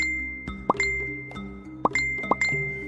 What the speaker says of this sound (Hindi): उसके फोन पर लगातार 4-5 बार नोटिफिकेशन वाली घंटी बजी।